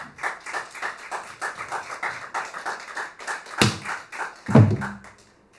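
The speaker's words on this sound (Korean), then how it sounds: "뜨거운 박수 부탁드리겠습니다" Audience clapping in a hall ahead of a pansori performance with buk drum accompaniment, a moderate patter of hands that thins out, broken by a couple of sharp thumps near the end.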